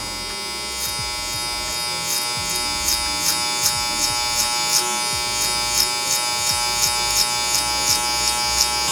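Electric hair clippers fitted with a number 1 guard cut hair for a soft low taper on a mullet, giving a steady close buzz with rhythmic pulses as strokes pass through the hair; no talking.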